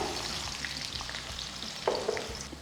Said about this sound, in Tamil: ஸோ வெங்காயத்தை ஒரு ரெண்டு மூணு நிமிஷம் நல்லா வதக்கணும்